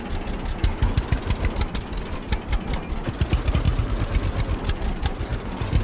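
A low, throbbing tractor engine in the farming video game Farmer's Dynasty chugs along at an idle-like pace, with a rough, pulsing rhythm and no voices.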